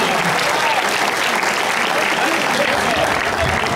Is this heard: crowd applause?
yes